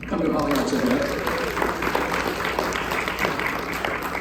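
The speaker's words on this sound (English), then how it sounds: "let's have a round of applause for all those who come to an Alianța event" Audience members at a Romanian community summit in Chicago give a moderate round of clapping that carries on steadily, with voices and a faint vocal tone mixed in near the start.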